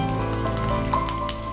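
Tempering spices for pulihora, including curry leaves, urad dal, mustard seeds, green chillies and chana dal, sizzle and crackle steadily in hot oil, a dense close frying hiss with no talk.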